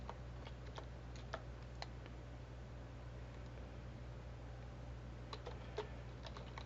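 Names being typed on a computer keyboard: scattered light key clicks come in short irregular bursts over a steady low hum and faint hiss, with no talking.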